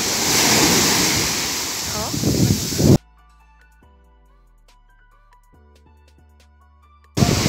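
Sea waves washing up on Caraguatatuba beach, a loud close surf roar that cuts to near silence midway before the rush of water returns at the end.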